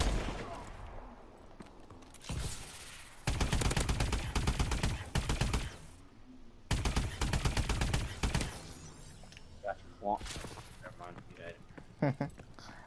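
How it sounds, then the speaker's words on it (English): Loud automatic gunfire bursts in Advanced Warfare multiplayer on PS4, several long rapid volleys separated by short pauses, then scattered single shots, with a voice talking in between. "I just saw a piece of his face and I just shot"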